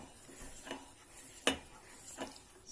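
A spoon stirs hot sugar syrup in a pan on the stove, with soft scraping strokes and one sharp metallic clink against the pan, fairly faint and close.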